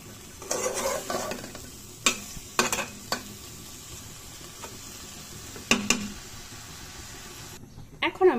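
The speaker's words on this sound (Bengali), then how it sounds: "সবজিটাকেও কষিয়ে নিতে হবে একদম ভালো মতো, মশলার সাথে যাতে প্রত্যেকটা সবজি একদম মিশে যায়।" Vegetables cook down with spices in a pan for a fish curry with tomato and brinjal, with a low sizzle under repeated sharp clinks and scrapes of a spoon stirring against the metal.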